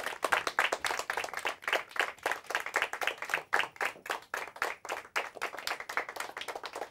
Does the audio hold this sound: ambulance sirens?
no